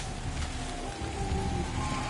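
Rain pouring down in the Ghost of Yotei video game, a dense, steady hiss of falling water with a low background rumble, continuous and even throughout.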